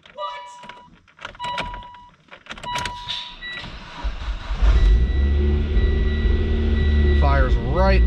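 A 2011 Mitsubishi Lancer Evo X MR with a twin-clutch SST transmission starts up after a few clicks and chimes, the engine catching and settling into a loud, steady idle with a brief rev near the end, while people talk.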